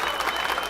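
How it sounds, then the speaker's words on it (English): Enthusiastic crowd applauding the players at a pool final, the 2022 Medalla Light Puerto Rico Open; a dense, steady wash of clapping, loud and continuous throughout. "a round of applause for the players"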